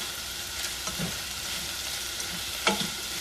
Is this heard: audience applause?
no